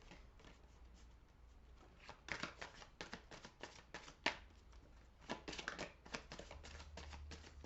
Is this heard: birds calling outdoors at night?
no